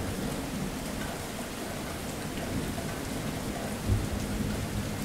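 Steady rain falls in a thunderstorm, a dense hiss throughout, with a low thunder rumble and a brief deeper boom near the end.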